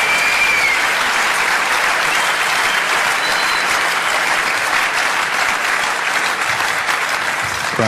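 Spectators applaud at a men's singles table tennis quarterfinal at the 2011 Austria Open, held at the Werner Schlager Academy in Austria, a dense, even roar of clapping sustained loudly across the whole stretch.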